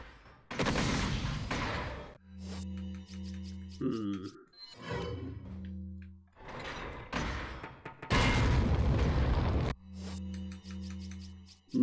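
Action from the Resident Evil 4 video game, with a flash grenade thrown at enemies: loud bursts and impacts, game grunts and mechanical clanks come in uneven waves, backed by a steady in-game tone.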